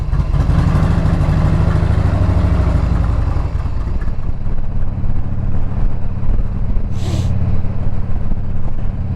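A Harley-Davidson motorcycle engine running loud and close after carburetor tuning, with a steady deep idle that rises in a short rev and then settles back to a throbbing rumble.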